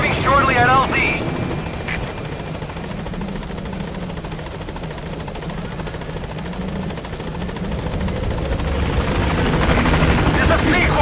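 A helicopter in Metal Gear Solid V flies in toward a landing zone, its rotor drone loud and steady throughout and swelling slightly stronger near the end.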